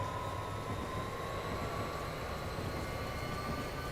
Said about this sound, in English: you can hear that SD40